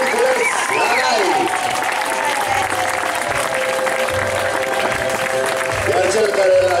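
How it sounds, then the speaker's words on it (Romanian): Audience applause at a circus show featuring liberty horse dressage, steady loud clapping filling the arena throughout with music-like tones and a voice over it. "aplauze pentru maestrul Nicolae Gurculeț la RAI!"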